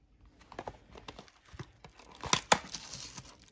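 A paper seal on a large window of a Makeup Revolution 2021 advent calendar being torn open, giving dry ripping and crinkling bursts spread across the clip, loudest in two sharp tears near the end, close and with no voice over it.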